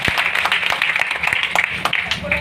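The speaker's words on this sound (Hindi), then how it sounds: "उनके लिए जोरदार ताली होना चाहिए।" Loud, dense clapping from a meeting audience welcoming a guest speaker, with sharp individual claps over a continuous patter and a voice faintly underneath.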